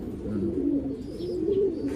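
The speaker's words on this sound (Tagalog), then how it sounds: "Ito yung ibon natin." A pigeon or dove coos low and throaty, a continuous rolling murmur close by.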